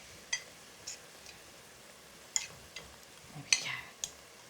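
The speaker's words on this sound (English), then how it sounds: "I'll give that a stir through." A spoon stirs lamb madras in a pan, making a few light scattered clinks and taps against the metal over a faint, quiet background.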